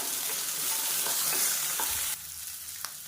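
Small shallots hit hot oil in a pan and sizzle loudly, with a stirring scrape or two before the frying settles to a quieter crackle.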